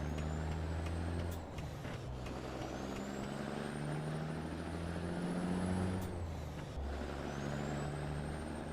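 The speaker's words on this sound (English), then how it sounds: "this engine has quite a throaty sound to it." A truck engine in American Truck Simulator gives a steady, throaty low rumble that runs throughout, with a high whine that rises and falls and a brief hiss near the start.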